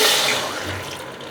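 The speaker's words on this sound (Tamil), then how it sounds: "ஒரு பாத்திரத்தில் போட்டுங்க நம்ம தண்ணி வந்து ஒரு 1/2 டம்ளர் விட்டு" Water splashes and pours into a cooking pot, about half a tumbler, loud at first and gradually easing, with a brief low gurgle partway through.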